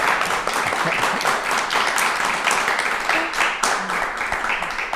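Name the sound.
clapping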